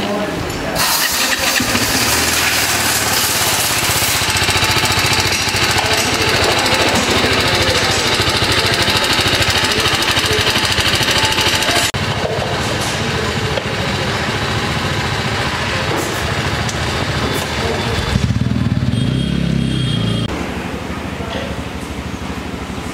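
A motorcycle engine runs just after an oil change to Shell Advance Ultra oil, a loud, continuous close-up idle with a rattling, pulsing texture and shifts in tone partway through, with some talking mixed in.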